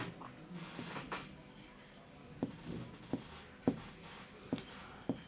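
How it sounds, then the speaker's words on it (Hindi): Chalk or marker strokes on a classroom board during an Urdu lesson: a short run of sharp, evenly spaced taps and scratches, close and moderately loud, with faint background hum and no talk over them. "तो सौदागर लिखेंगे हम यहाँ।"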